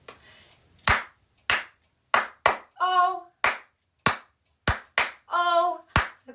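Children clap their hands along to the Bingo song in a family reading session: sharp, close claps in a steady beat, broken by short sung notes between them.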